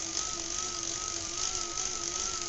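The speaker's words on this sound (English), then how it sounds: "The trainer is relatively quiet." A Schwinn Super Le Tour bicycle spinning on an indoor trainer makes a steady, quiet whirring with a constant high tonal whine and no talk.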